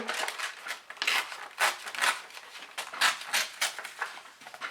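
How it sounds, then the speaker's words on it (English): Paper being cut and torn down to the width of an envelope, a run of brisk rustling rips and snips in an uneven rhythm, close and fairly loud with no talking. "we're just gonna cut this down to size and we're gonna rip it"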